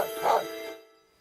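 A single dog bark from the video game Ōkami, a short mid-pitched yelp rising and fading within about a second, heard alone with no talk.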